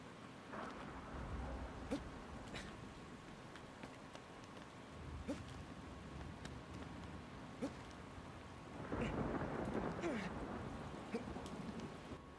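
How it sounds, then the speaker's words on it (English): Steady rain with distant rumbles of thunder in the video game Shadow of the Colossus, a continuous soft hiss broken by a few low rolls, one swelling louder near the end. "All this rain really setting the stage."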